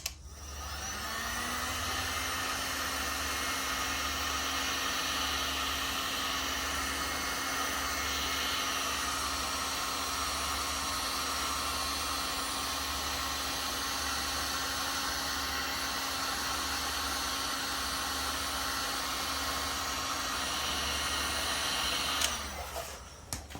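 A heat gun warms the trim surface on a 2022 Honda Accord 2.0T ahead of cutting for a diffuser install, giving a loud, steady blowing whir that runs unbroken for about twenty seconds before switching off.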